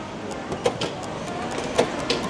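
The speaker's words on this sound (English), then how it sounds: "And just like that, the machine spit out a ticket." Ticket vending machine at a ramen shop in Asakusa, Tokyo, dispensing a ticket: a few short mechanical clicks and whirs over busy background noise, close by, with faint voices around.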